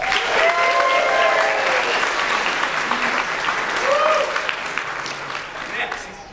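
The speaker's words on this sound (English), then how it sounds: "A round of applause for Cobalt." Loud, sustained clapping from a convention crowd at Dragon Con 2012's costume and lightsaber show, with raised voices and cheers riding over it before the applause gradually tapers.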